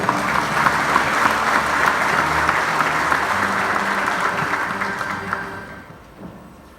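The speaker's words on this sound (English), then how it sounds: "Another round of applause, everyone." Sustained applause from an audience at a sports awards ceremony, steady and dense for about five seconds before tapering off and fading near the end.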